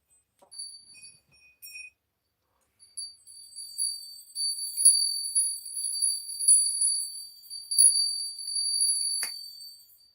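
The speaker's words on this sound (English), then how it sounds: "I have all these bells, but I don't know where they came from." Small bells of unknown origin ring with a light metallic jingle, first in two brief separate strikes and then in a longer, shimmering cluster of tinkling tones that carries on for several seconds, close and fairly clear, with no voices.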